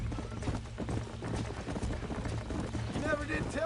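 Horse hooves clip-clop steadily in the Red Dead Redemption video game, a quick trotting rhythm under a bed of low rumble, with a brief whinny-like tone near the end.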